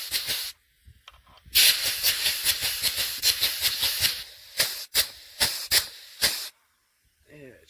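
An automatic grease gun pumps out grease in rhythmic, close, loud hissing spurts. Two longer bursts are followed by a run of short puffs with brief silences between them.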